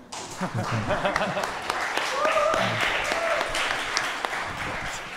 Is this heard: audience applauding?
yes